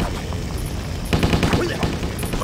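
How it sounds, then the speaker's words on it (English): Gunfire in Stubbs the Zombie, a burst of rapid shots and booms breaking in halfway through after a quieter stretch, loud and close. "Firing at will!"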